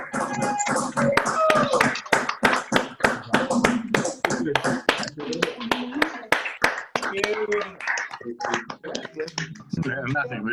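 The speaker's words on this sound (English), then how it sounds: "We're clapping." Participants on an online video call clap for a presenter, sharp individual hand claps and taps arriving in an uneven, close-miked rhythm, mixed with people talking over the call.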